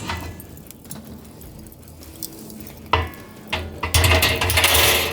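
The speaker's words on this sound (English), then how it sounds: "Okay, let's put the grate on it." A beefy stainless steel grate is set onto a drum smoker over a live fire, giving several sharp metallic clanks and scrapes that grow louder near the end, with a low rumble of fire beneath.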